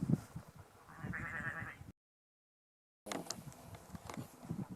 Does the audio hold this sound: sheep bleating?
yes